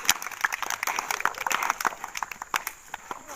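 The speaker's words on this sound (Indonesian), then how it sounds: "Tepuk tangan untuk kita semua dulu." A classroom audience of students claps together, a dense patter of many hands at moderate volume across the whole span with uneven bursts.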